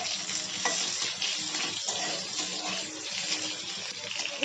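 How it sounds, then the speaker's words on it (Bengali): Cut potatoes frying in leftover fish-frying oil in a pan, a steady close sizzle with soft scraping as they are stirred, no voices. "আলুগুলোকে একটু সময় নিয়ে নাড়াচাড়া করে ভেজে নেব।"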